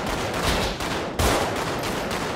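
Rapid bursts of gunfire in a GTA 5 roleplay game session, dense and continuous, with a louder volley about midway through.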